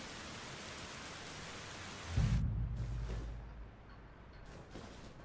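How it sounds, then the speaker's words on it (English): Rain weather effect in the video game Arma Reforger: a steady broadband hiss of rainfall that swells into a low rumble midway, then thins to a quieter patter with no talking. "Make it night and rain?"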